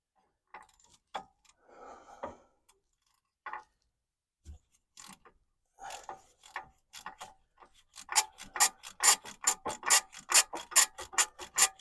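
A ratchet undoes a bolt on a BMW E92 rear spring, with scattered clicks and rubbing at first, then a quick, regular run of sharp ratcheting clicks that grows louder toward the end.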